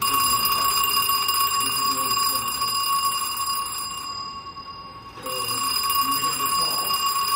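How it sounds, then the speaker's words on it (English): An electric bell driven by the 20 Hz AC ringing output of a 100-year-old motor generator rings continuously and loudly, cuts out for about a second, then starts ringing again, with faint voices underneath. "we hooked up the field windings to the 20 hertz AC ringing output to see if it would ring a real bell"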